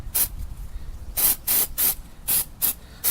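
Spray paint is sprayed onto freshly cut metal surfaces on a white 1999 GMC K1500 Suburban during a nerf step install, heard as a run of short hissing bursts of about half a second, several in quick succession, close and loud.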